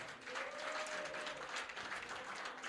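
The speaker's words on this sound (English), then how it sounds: "Can we have a big round of applause for the Area Council?" An audience at a JLP Area 3 council meeting breaks into sustained applause, a steady wash of clapping that fills the room at moderate level.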